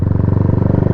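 A motorcycle running on E85 fuel with a quiet all-mesh exhaust idles nearby with a steady, soft pulsing thrum, fairly mellow rather than sharp or loud, brief and without voices.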